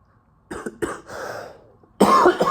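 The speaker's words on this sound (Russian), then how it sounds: "Так, кашель присутствует." A man coughs several times at a workbench while repairing an OPPO A74 phone display, a couple of sharp close coughs, a rougher drawn-out one, then another loud burst, all near and alone without talk.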